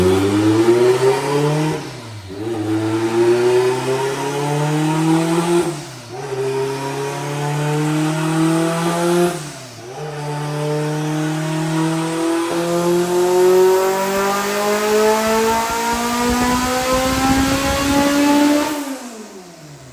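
A 700hp all-wheel-drive Honda Civic runs a boost pull, its engine climbing through the revs in repeated rising sweeps, each cut short by a brief dip at a gear change, loud and close with no voices.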